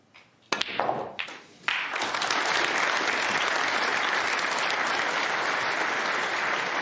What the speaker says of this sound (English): listen to the crowd. Give him all the encouragement